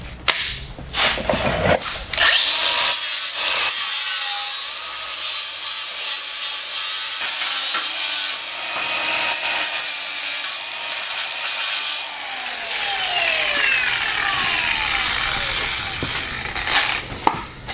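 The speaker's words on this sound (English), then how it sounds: "Now we're going to use the flapper wheel to clean everything up." A battery-powered flap wheel grinds and cleans metal on the chassis of a 1986 Chevrolet C10, a loud, rough abrasive whir with repeated bursts and pauses and rising and falling pitch.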